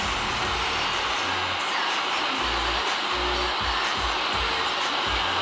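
Heat tool blowing hot air onto a motor bearing housing during a motor rebuild, a loud steady hiss of airflow lasting throughout, with low thumping pulses from handling underneath.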